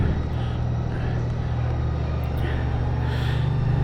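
A Honda Goldwing trike engine idles steadily and close by with a low, continuous rumble, its level staying even throughout while the trike sits ready for a test drive after an oil change.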